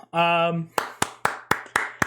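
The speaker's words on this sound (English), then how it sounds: "Claps." A sung or hummed tone is followed by six sharp, evenly spaced hand claps, loud and close with brief gaps between them.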